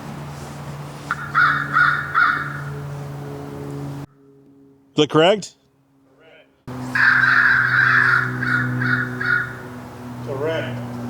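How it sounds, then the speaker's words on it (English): A bird caws repeatedly in loud bursts inside an outdoor amphitheater, the calls echoing over a steady background hum, with a person speaking briefly in the middle. "I hear a bird up there."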